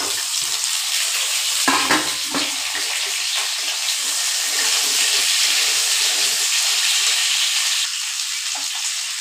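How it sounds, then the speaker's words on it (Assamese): Potatoes fry in hot oil in a pan, giving a loud, continuous close sizzle with occasional stirring scrapes and clinks throughout. "আলুখিনি আগতে অকণমান ফ্ৰাই কৰি ল'ম।"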